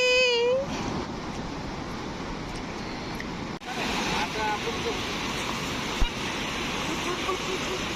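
Sea waves break at Aare Ware Beach in Ratnagiri, a steady broadband wash of surf heard close throughout, with brief voices and a short tonal call near the start.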